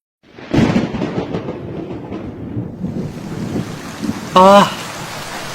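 Steady rain pours down with a low rumble of thunder running underneath, and a brief tonal cry sounds near the end.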